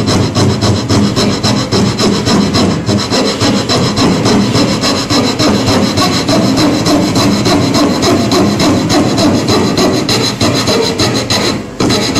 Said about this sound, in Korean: 최대한 밑으로 수직으로 떨어뜨리는 느낌으로 톱질을 해야 하네